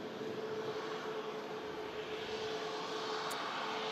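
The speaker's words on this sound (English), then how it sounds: "Ryanair 737 MAX 8200 coming in next" A Ryanair Boeing 737 MAX 8-200 landing at Manchester Airport, a steady broad roar of jet engines heard from a distance, even and sustained with a faint tonal whine, no voices.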